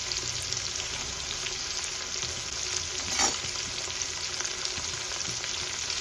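Fennel seeds, turmeric and green chillies fry in oil in a pan with a continuous bright sizzle, close and steady, with a soft scrape of stirring partway through.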